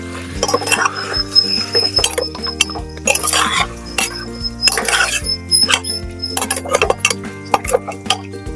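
Mutton being sautéed in a pot over high flame with oil, salt and turmeric, loud repeated metal clinks and scrapes of a spoon against the pot in an irregular rhythm, with faint sizzling underneath.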